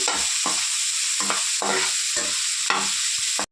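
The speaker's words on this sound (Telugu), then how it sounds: "ఇది ఫ్రై అవుతుంది" Boneless chicken pieces frying in hot oil at home, a loud steady sizzle with bursts of crackle as the pieces are stirred, no voices.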